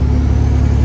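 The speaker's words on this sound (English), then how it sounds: "I'm driving this truck right now." A truck driving on a road in Michigan: a loud, steady engine drone and road rumble heard from inside the cab, continuous with no pauses.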